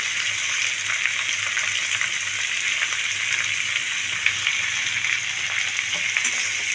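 Chopped onion, tomato and capsicum stirred in a hot pan for chilli chicken, a loud steady sizzle with faint scraping stirs running throughout, close, with no talking.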